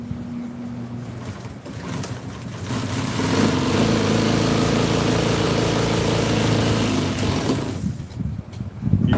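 Sewing machine stitching a 1966 Chevy truck seat cover: a steady motor whir runs for about five seconds after a quieter start, then winds down, with no one talking.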